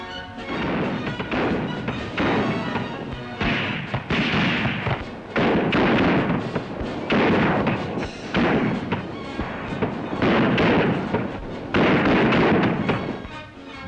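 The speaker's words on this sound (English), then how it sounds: "the Bren gun, and the anti-tank rifle." A Bren gun and an anti-tank rifle fire in a dense stretch of repeated heavy thumps and cracking bursts, loud and continuous over old, noisy newsreel sound with no clear speech.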